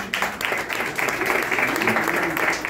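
An audience at a Bible event applauds, a sustained dense patter of many hands clapping at fairly loud level, with some voices mixed in.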